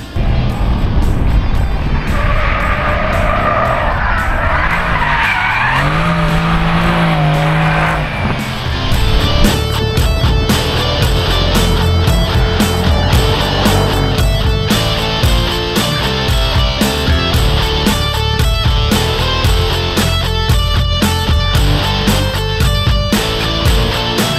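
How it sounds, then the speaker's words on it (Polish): Mercedes-AMG C63 S in Sport Plus mode on the Portimao race track, a loud, sustained engine roar rising and falling through gear changes, with tire noise, dense and close throughout. "za chwilę będziemy mieli okazję sprawdzić najmłodsze dziecko e, ze stajni AMG e, Mercedesa C63 AMG w wersji S"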